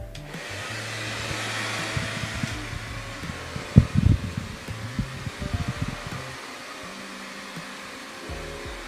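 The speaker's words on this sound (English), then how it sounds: "I prefer to use the blow dryer versus the heat gun" A blow dryer blows steadily over epoxy resin poured on wood, a close continuous whooshing hum with handling bumps and clatter in the middle, then quieter toward the end.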